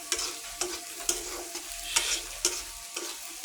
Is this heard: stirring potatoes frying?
yes